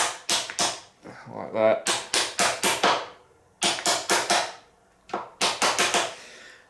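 Steering damper on a DR650 motorcycle frame being tapped into place, with bursts of sharp, evenly spaced knocks in rapid runs of three to six, close and loud, and a brief voice between them.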